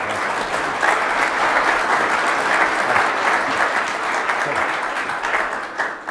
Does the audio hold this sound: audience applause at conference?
yes